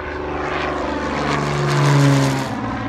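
Piper Malibu single-engine propeller airplane climbing out slowly overhead on low power, a steady droning buzz of engine and prop that swells as it passes close above, then eases slightly.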